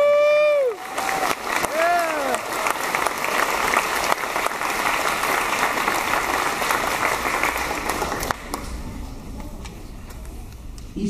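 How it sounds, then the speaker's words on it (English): An audience at a fifth grade promotion ceremony breaks into loud, sustained applause and cheering that lasts about eight seconds before it thins out. A voice is heard briefly at the start, and a whistle-like tone rises through the clapping. "Could we just give our fifth graders a round of applause"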